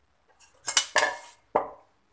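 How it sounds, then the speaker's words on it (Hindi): Boiled chickpeas dropped into a metal pot in a home kitchen while making chana chaat, giving a few short clanking knocks and clinks in separate bursts, close and fairly clear with no talking. "चने बर्तन में डाल देंगे"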